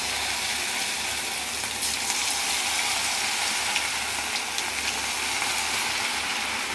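Chicken pakodi pieces frying in hot oil, a continuous dense crackling sizzle, close and steady, with no talking.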